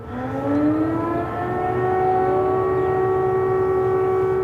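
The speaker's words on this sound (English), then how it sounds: "Air raid sirens blared out across the capital." Air raid sirens wail across Kyiv, a steady mechanical tone that rises in pitch at the start and then holds, loud and echoing over the city with a faint background rumble.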